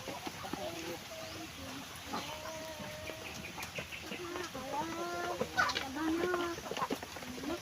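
Upgraded native chickens crossed with Rhode Island stock cluck and murmur continuously on a small chicken farm, a busy flock sound of overlapping short calls under faint voices.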